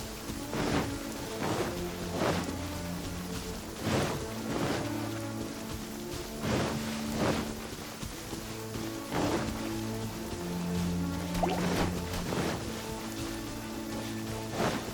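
Steady rain falling in Genshin Impact, a continuous hiss of drops on surfaces with periodic soft pulses, moderately loud and unbroken.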